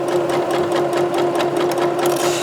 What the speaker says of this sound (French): Donc on coud en gros toutes les épaisseurs.